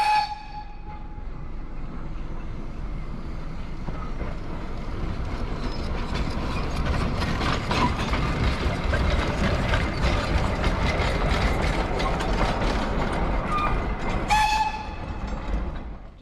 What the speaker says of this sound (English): Little train called the Wee Georgie Wood.